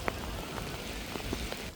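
Rain pours down steadily, a dense hiss of drops striking a surface with a few sharper taps standing out.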